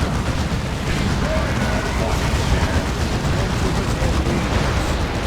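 Dense, rumbling battle fire from Warhammer 40,000: Dawn of War 2 as Ordo Malleus Purifiers and Paladins fight Tyranids, a continuous wash of shots and blasts with faint voices mixed in.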